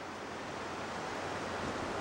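Floodwater left by Hurricane Wilma runs past like a small river, a steady broadband rushing wash that stays close and even throughout, with no voices over it.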